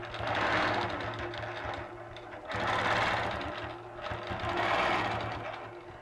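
Close up, a sewing machine quilts the top half of a star in three steady bursts of rapid whirring stitching, each swelling and easing with short dips between as the fabric is guided, loud and alone.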